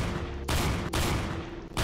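Gunfire rattles in the Roblox game SCP Area-39 as loud, sustained bursts of rapid shots, split by brief near-silent gaps between volleys.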